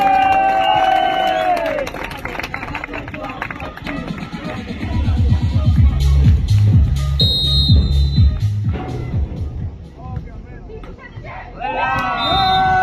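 Crowd at a beach volleyball match in Lignano Sabbiadoro cheers and applauds, a loud sustained roar of voices and clapping that swells through the middle, with an announcer talking over it at the start and end.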